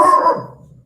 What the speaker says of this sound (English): That is my dog going crazy.